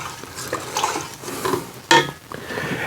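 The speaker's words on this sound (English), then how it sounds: "just give that a quick stir" A root beer extract mixture for moonshine is given a quick stir, close scraping and swishing with a sharp clink of the utensil against the container partway through, alone without talk.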